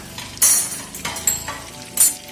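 Tomatoes and radish sizzle as they fry in a pan while a utensil stirs them, with several scraping bursts over a steady, close hiss.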